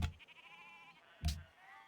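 Sheep bleating in the strategy game Civilization 5, two short bleats, one at the start and another just past a second, over soft game music.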